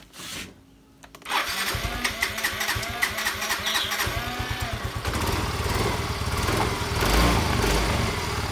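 A motorcycle engine is started after a brief pause, catching with a burst and settling into a steady idle with rhythmic pulsing, close and moderately loud.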